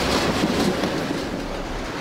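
A train rolls along railway tracks in the Perus district, on the former Santos–Jundiaí line, with a loud, steady rumble and rattle that fills the whole stretch without any talk.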